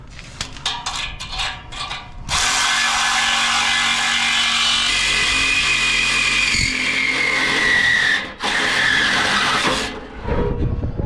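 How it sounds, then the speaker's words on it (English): A saw cuts through metal hangers under a vehicle, a loud, harsh, continuous grinding that starts after a few brief bursts, runs for several seconds, pauses briefly and resumes near the end. "take the saw, cut the hanger here, go on the other side with the other hanger and cut that one too"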